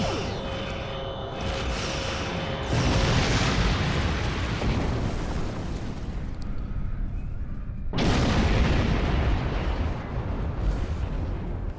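Starship weapons fire and explosions in a Star Trek video game: dense, roaring blasts with a sustained rumbling wash, surging loud again near the end after a brief dip.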